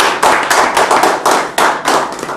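Loud, bursting rounds of hand clapping from a crowd at a network-marketing seminar, in several strong swells that rise and fade, with no talking.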